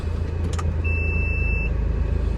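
A remapped Honda Accord G8 2.0 engine idles at very low rpm with a steady, low, even rumble, close up, and a brief high whine partway through.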